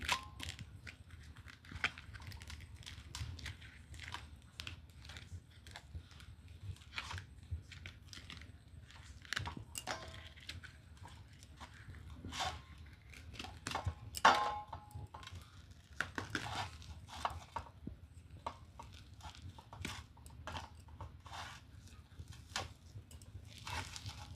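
A ripe black palm fruit is peeled by hand, giving faint, irregular tearing, crackling and fibrous ripping sounds close by, with scattered sharper snaps through a quiet background.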